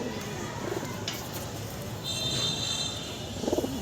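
Pigeons in a loft during moulting season give soft, low coos, one brief call early and a clearer throaty burst near the end, over a steady background hiss.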